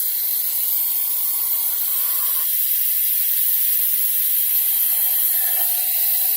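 Air-powered Mityvac MV6830 fluid evacuator running on shop air, used to suck brake fluid from a reservoir during a brake fluid flush: a steady, continuous hiss that changes tone partway through, with no talk.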